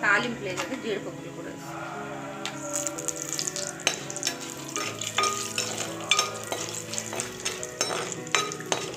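Tempering spices, cashews, onions, green chillies and curry leaves, sizzle in a pan for semiya upma, with stirring and clinks of utensils under a person talking.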